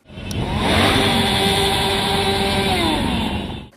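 Motorcycle engines of a wedding convoy roar past along city streets in a steady, loud rumble, holding a high drone for a few seconds before fading out.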